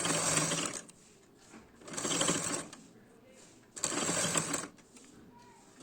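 Sewing machine stitching silver lace onto a blouse, running in three steady bursts of rapid mechanical whirring and clatter with short pauses between them, close and fairly loud.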